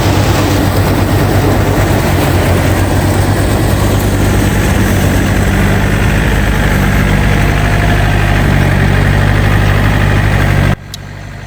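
A second-hand Thai Yanmar engine idles loudly and steadily up close, a continuous rough diesel rumble that drops off abruptly near the end.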